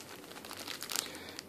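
Paper manuals and packaging from a Samsung ATIV Smart PC retail box crinkle and rustle faintly as they are handled, a soft, continuous crumpling with a few sharper crackles near the end.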